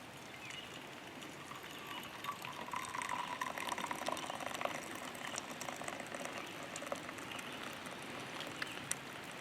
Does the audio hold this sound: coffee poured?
yes